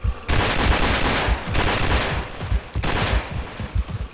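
A machine gun in a World War 2 shooter fires several long, loud bursts of rapid gunfire, with short breaks between volleys.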